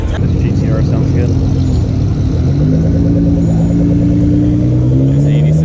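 Nissan GTR at a street car meet, its engine rumbling loudly and close with rising revs under a steady crowd murmur, with people talking nearby.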